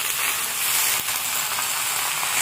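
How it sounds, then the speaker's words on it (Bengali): Dried fish fries with winter vegetables in a hot pan, a steady close sizzle and hiss with a faint stir partway through. "এইবার দিয়ে দেবো শুটকি মাছগুলোকে"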